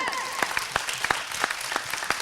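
Audience clapping at a Malayalam entertainment show, quick rhythmic claps in a steady beat with voices mixed in.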